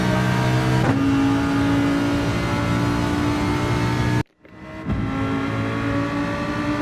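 A Lamborghini Huracan Gr.4 race car in Gran Turismo 7 drones loudly at high revs, with a rising engine note, a brief cut during a gear change, then renewed acceleration.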